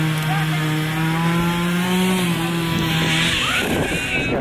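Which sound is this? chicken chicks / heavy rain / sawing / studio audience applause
sawing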